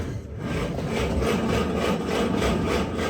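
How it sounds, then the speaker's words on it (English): A starter cranks the engine of a 70-year-old Power Wagon with the choke fully on, producing a steady rhythmic grinding churn that pulses repeatedly for several seconds without catching, close and fairly loud, with no talk. "Choke is all the way on. Starter, just go for it."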